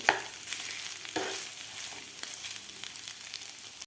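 A chili and ginger mixture being stirred in a pan for fasting-day batata vada, a spoon scraping through it in a few sweeps over a steady low sizzle, close and moderately quiet, with no talking.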